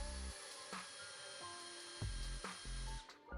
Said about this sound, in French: À l'endroit où va être positionnée ma lumière, je vais venir percer un trou.